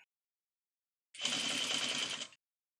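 A sewing machine stitching a bonnet runs in one short, steady burst of rapid mechanical chatter, starting abruptly after silence and stopping cleanly about a second later, close and alone.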